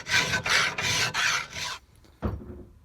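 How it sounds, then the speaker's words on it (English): Hand filing with a double cut file on a knife tang, a bulge being worked down by hand: four long rasping strokes in steady rhythm, close and loud, then a pause and a short final scrape. "so I'm just going at it with the double cut file"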